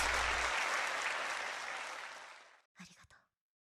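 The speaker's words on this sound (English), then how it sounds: "A wave of applause washes over us." Dense applause from a crowd in the visual novel game Flowers washes in loud and steady, then fades away and cuts off, leaving a brief spoken phrase after it.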